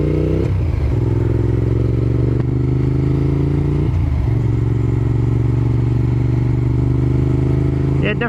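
Motorcycle ridden on the road, its engine droning loud and steady with a few shifts in pitch as it changes speed, plus wind and some clattering rattles.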